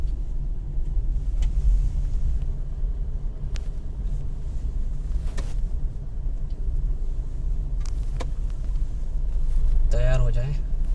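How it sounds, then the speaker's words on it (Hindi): A car driving along a road at night through light mist, giving a steady low engine and tyre rumble throughout, with a brief brighter noise near the end. "बढ़ती हुई है अपनी गाड़ी।"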